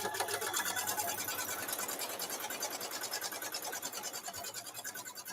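A sewing machine runs continuously at a fast, even rhythmic clatter while stitching quilted hand bag fabric, close and steady throughout with no talking.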